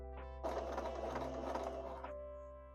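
A sewing machine runs a zigzag stitch along a fabric edge in one steady burst of about a second and a half, its motor whirring and needle clattering close and clear over a constant low hum, with no talking.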